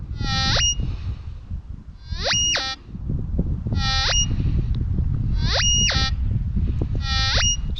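A Nexus Standard MP V3 metal detector sounds its response to iron mixed with a coin: five sharp, high, warbling chirp tones at regular intervals, each swept and broken up, over a low rumble of handling noise.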